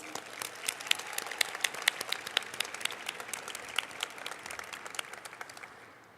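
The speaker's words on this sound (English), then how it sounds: "we give them one more round of applause, please?" Steady audience applause fills a closing ceremony awards hall, many hands clapping with sharp individual claps standing out, continuous throughout and slowly easing at the end.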